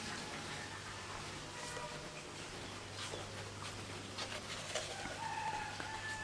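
Chickens cluck and call faintly in the background from a coop beside a house, over a steady low hum and a busy outdoor noise floor.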